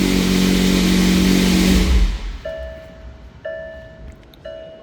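A 2020 McLaren 720S Spider's engine revs loud and close for about two seconds, then cuts off, followed by a few short, quieter electronic chimes or beeps.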